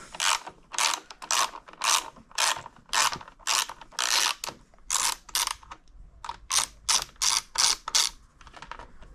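A ratchet turning a nut off the mirror of a CFMoto 800MT motorcycle, giving quick bursts of clicking strokes with short pauses between them, close and clear with no talking.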